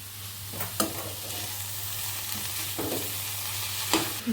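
Onion and finely chopped fenugreek leaves sauté in a pan with a steady soft sizzle, broken by a few scrapes of a stirring spoon, close by with no speech.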